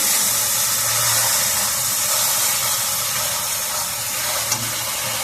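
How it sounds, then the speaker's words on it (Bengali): Boiled potatoes and vegetables hit a hot oiled pan and fry in a loud, steady, close sizzle that holds without a break, with no talking. "এবার গাঁটি আর আলুগুলোকে দিয়ে দিচ্ছি, দিয়ে একটু ভালো করে কষিয়ে নেব।"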